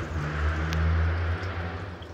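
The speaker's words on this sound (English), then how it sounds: "Excuse the loud car going by." A loud car passes close by outside, a low rumbling swell that builds and fades over about two seconds with no talking.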